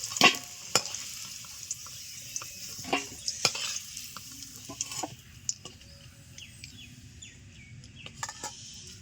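Potatoes fry lightly in plenty of oil in a pan, a soft steady sizzle broken by scattered clinks and scrapes of stirring, with no talking.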